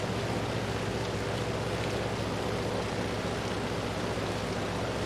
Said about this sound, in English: look at those three BMW engines